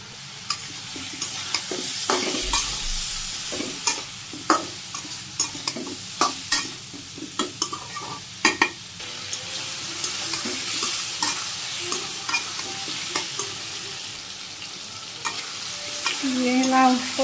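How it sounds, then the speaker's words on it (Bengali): Chopped bottle gourd with fresh ginger and turmeric sautéing in a pan, a continuous sizzle broken by regular sharp scrapes and taps of a spatula stirring, close and fairly loud, no talking. "ভালো করে কষিয়ে নিই লাউ"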